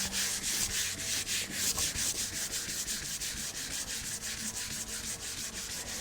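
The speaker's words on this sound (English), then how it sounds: "just looking to sand down all the high points of this finish to get an even smoother finish" Hand sanding across the lacquered finish of a wooden wardrobe, a close, even hiss of abrasive strokes repeating in a fast regular rhythm throughout.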